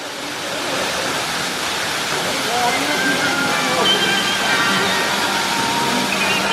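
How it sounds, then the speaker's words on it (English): Steady rushing roar of Gozalandia Falls in Puerto Rico, a dense continuous wash of falling water close by, with faint voices nearly lost beneath it. "That is a pretty cool waterfall right there."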